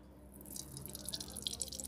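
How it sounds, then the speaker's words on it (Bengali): Cooking oil poured into a hot wok for a vegetarian dish starts a soft, rising sizzle with scattered crackles and pops after a brief quiet start. No one speaks. "এবার তেলটা দিয়ে দিচ্ছি।"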